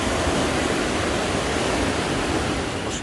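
Spring river in Tavush, Armenia: a dense, constant roar of rushing water, loud and close, steady throughout with no voices.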